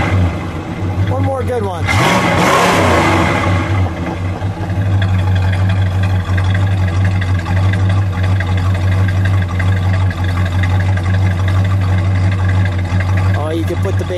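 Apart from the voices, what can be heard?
1970 Dodge Coronet R/T 440 engine revving and idling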